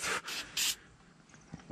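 Cleaner sprays from an aerosol can onto a Kwikset handleset lock in three short, sharp hissing bursts, close and fairly loud, followed by faint handling noise.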